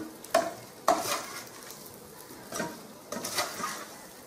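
A spoon stirring marinated potatoes with chaat masala, salt and crushed peanuts in a pan for Rajkot-style bhungla bataka: a few scraping strokes and taps against the pan over a soft, gritty rustle.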